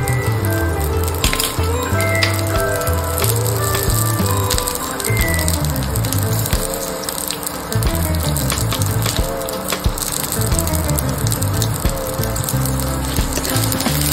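Green and dried chillies sizzling in hot oil in a pan for raw mango pickle, a loud, dense crackle and spatter running steadily throughout.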